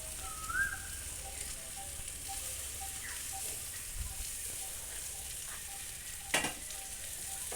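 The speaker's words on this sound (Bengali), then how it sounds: "বাঁধাকপিগুলি নেড়ে চেড়ে একটু সেদ্ধ হয়ে যাক" Cabbage pieces sizzle softly in a spiced pan for pasta, a steady low hiss with occasional stirring clinks and one louder scrape near the end.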